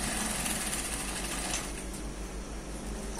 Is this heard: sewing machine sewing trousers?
yes